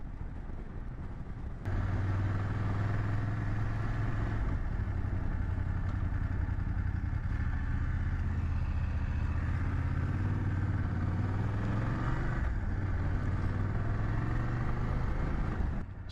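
A 2024 BMW F 800GS mid-sized adventure motorcycle is ridden, its engine droning steadily close up with rising and falling pitch as it gathers speed, under constant wind rush after a quieter opening moment.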